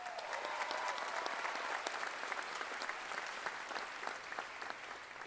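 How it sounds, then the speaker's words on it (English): A graduation audience claps for families and loved ones, a thick, continuous roar of applause from many hands that stays steady and full throughout, fading only slightly at the end. "I want to give a round of applause to all of the families and the loved ones that made this day"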